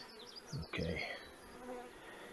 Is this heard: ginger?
no